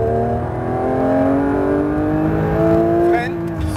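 Car accelerating at full throttle on a race track, engine note climbing steadily in pitch as it pulls hard, loud and close with a brief shift near the end, while an instructor's voice speaks over it.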